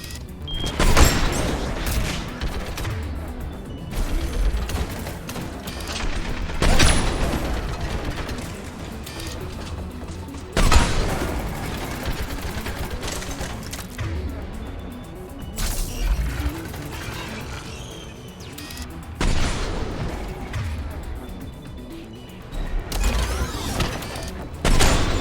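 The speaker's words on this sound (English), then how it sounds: "Mounted turret." Bursts of mounted turret gunfire in Mass Effect 3 Legendary Edition, several heavy volleys spaced a few seconds apart over mechanical clatter and game noise, with no speech.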